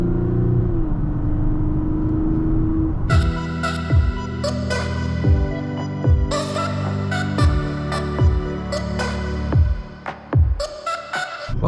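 A 2024 Mazda CX-90 in sport mode accelerates hard from a steady cabin hum into a loud, rising engine drone that climbs repeatedly and drops at each gear shift, heard close from inside the car with no talk.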